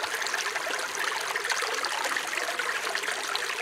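Clear spring water of the Kebena river runs steadily in a close, even stream with a constant trickling rush and no voices.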